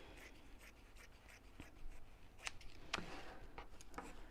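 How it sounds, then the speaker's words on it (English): Scissors trimming fleece fabric at a sewing table: a quick series of soft snips and rustles, faint and close, with fabric being handled between cuts. "I'm just trimming the fleece down to the same size"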